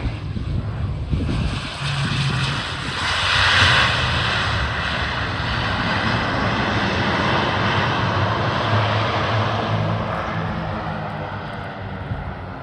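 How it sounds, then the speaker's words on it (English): An ATR-72-600 turboprop airliner with six-bladed propellers lands and uses reverse propeller pitch, giving a loud sustained engine roar that swells briefly and then holds steady through the landing roll. "using the reverse pitch of those propellers, those six-bladed propellers, to bring to a very short, commendable landing roll"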